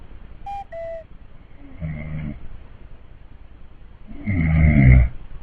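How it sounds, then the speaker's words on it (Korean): A person snores while asleep at home, during a night of testing cheap anti-snoring products: two long, heavy rasping snores a few seconds apart, the second louder and rougher, with faint electronic beeps at the start and no talk. "그리고 그 이후로는 평상시랑 똑같이 코를 골았습니다."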